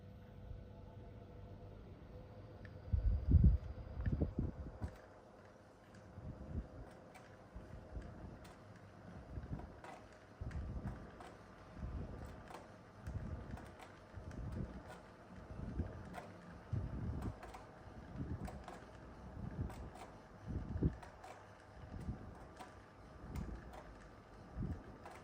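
A 1994 National F-128RM 12-inch box fan running on its low setting, a faint steady whir with a soft repeating thump from the rotating louver, heard close and alone for over twenty seconds.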